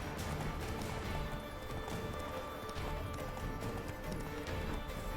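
Horse hooves gallop in The Witcher 3 video game, a dense, continuous clip-clop rhythm under a busy wash of game sound, with no talk over it.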